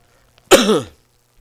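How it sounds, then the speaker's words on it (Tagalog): One short, sharp cough sounds close by, then silence. "Pasensya na, ubo ako na ubo, no?"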